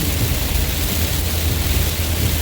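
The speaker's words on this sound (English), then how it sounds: "we're getting some good rain here" Steady rain falling outdoors, a dense even hiss filling the space without pause, loud and close with a low rumble underneath.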